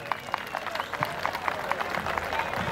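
Applause from the audience at a wrestling event in Döşemealtı, a steady rattle of many hands clapping across a crowd, with an announcer's voice speaking over it.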